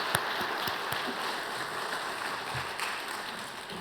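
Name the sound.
audience applauding in welcome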